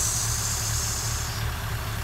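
A Toyota AE86 engine idles with a K&N cold air intake fitted, giving a low, steady rumble with an airy intake hiss on top. Close and continuous over a couple of seconds.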